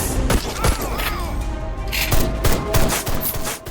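Dual pistols fire in the VR arcade shooter Aim Assault: rapid, loud, sharp gunshots in irregular bursts with clanking impacts between them.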